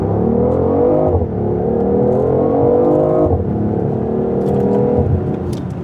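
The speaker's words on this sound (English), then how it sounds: "Let's go ahead and do a 0 to 60 test in the BMW i8 and see what this thing gets." A BMW i8 hybrid sports car accelerates hard from a standstill in a 0 to 60 run, its loud engine note climbing steadily in pitch through several gear changes with brief dips at each shift.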